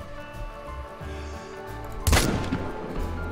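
A single loud M1 rifle shot fired in the hunting game theHunter: Call of the Wild, a sharp blast over quiet game ambience and low music, followed by a ringing tail.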